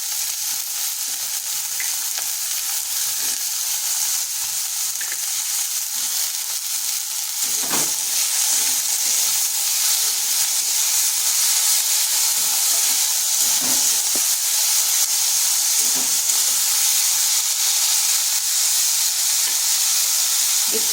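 Cut potatoes fry in hot oil in a pan for a quick egg snack. A loud, continuous sizzle and hiss carries on throughout, with a few soft stirring knocks and no talking.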